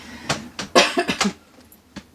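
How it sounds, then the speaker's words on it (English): A burst of several close, harsh coughs in quick succession, followed by a short pause and one last smaller cough. "I'm going to cough again, I'm really sorry."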